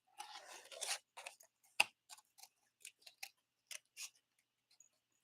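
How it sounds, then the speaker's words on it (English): Scissors snip around stamped paper in a series of short, crisp, close cuts with irregular pauses between them, sounding quiet and alone in the room. "So you just kind of want to just fussy cut."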